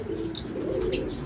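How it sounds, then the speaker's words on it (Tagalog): Wild pigeons or doves coo outdoors, a soft low rolling call with a couple of faint higher chirps, moderately near with no talk. "dahil may mga nakatambay din na ibon sa labas ano"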